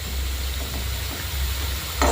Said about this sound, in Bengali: এই যে দেখুন কীভাবে শব্দটা শুনে বুঝতে পারছেন কীভাবে কতটা মচমচে হয়েছে।